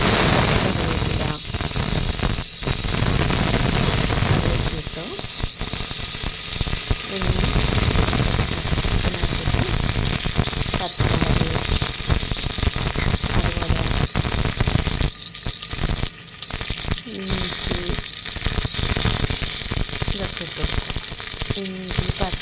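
Dried red chili frying in hot oil, a steady loud sizzle and crackle that runs throughout, broken by scraping stirs, with a voice talking over it now and then.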